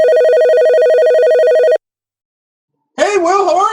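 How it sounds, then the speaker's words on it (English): A telephone rings with a steady electronic tone for almost two seconds, then cuts to silence before a voice answers the call. "let's go ahead and see if we can get Will on the phone"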